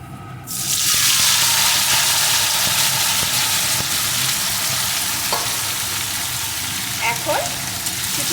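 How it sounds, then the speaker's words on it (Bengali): Small local fish, mixed by hand, frying in oil in a pan, giving a loud, steady sizzle that runs throughout, with a few faint clinks of stirring near the end. "একটু ভাজা হলেই এর ভিতরে আমি হাতে মাখানো মাছটা ঢেলে দেবো"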